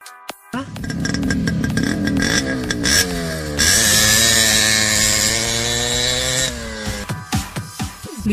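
Yamaha RX 100 motorcycle two-stroke engine revving loudly and steadily, its pitch climbing and holding at a high buzzing whine before dropping back to a sputtering idle with a few blips.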